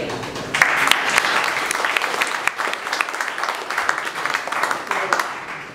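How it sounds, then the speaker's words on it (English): Warm round of applause for a presenter at a morning business accelerator event, steady close clapping from a modest crowd lasting several seconds with individual hand claps standing out. "please give a warm round of applause for Structure Trade."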